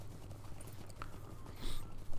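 Horse hooves clip-clopping steadily in the Lord of the Rings Online video game as a hobbit rides toward Hobbiton, moderately loud over a low ambient background with no talk.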